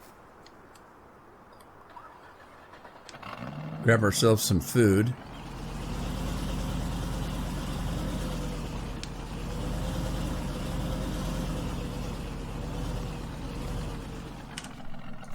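A truck engine in Farming Simulator 19 cranks with a short burst of clattering, then settles into a steady, rumbling idle that drones on, with someone talking briefly over it.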